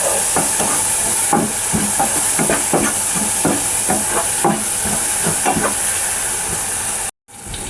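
Ridge gourd curry sizzling and frying in a pan while a spoon stirs it, scraping strokes repeating at a steady rhythm over a constant hiss, close and loud, with a brief dropout near the end.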